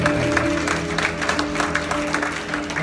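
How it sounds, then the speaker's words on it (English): Audience applause at a live blues concert in Springfield, Illinois, a steady, dense clapping texture of a small crowd filling the room, with faint murmuring underneath throughout. "Give yourself a round of applause."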